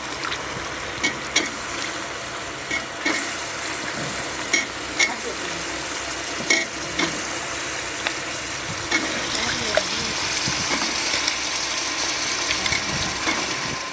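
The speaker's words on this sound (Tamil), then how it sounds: "இப்போ சுரக்காயை போட்டுருவோம்" Bottle gourd hits a pan of onion, tomato and lentils for a tamarind curry, giving a soft continuous sizzle broken by regular clicking taps of a stirring spoon against the pan.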